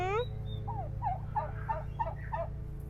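A wild turkey hen gobbles and clucks in a run of about six quick, rising calls, close and clear over a steady low engine-like hum.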